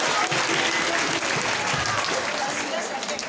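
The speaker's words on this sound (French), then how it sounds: "sous vos applaudissements encore pour Fatima Toul." Audience applause at a French award ceremony for dictation and mathematics contest winners, a dense, loud and steady clapping that continues throughout, with a voice speaking over it.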